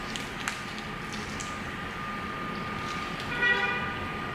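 A car horn sounds outside over a steady background of street noise, with one short honk standing out near the end.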